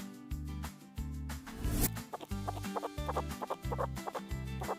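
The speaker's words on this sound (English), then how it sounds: "The hen clucks around the yard." A hen clucks in a yard in short, scattered clucks over a loud, repetitive cartoon-style music track with a pulsing bass.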